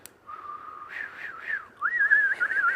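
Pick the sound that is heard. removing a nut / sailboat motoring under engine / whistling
whistling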